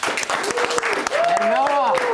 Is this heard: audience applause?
yes